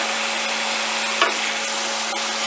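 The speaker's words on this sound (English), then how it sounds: "Next, I'm going to go ahead and add my sausage." Sausage goes into a hot pan and is stirred, making a steady close sizzle and frying crackle with a brief scrape partway through.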